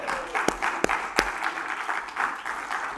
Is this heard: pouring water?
no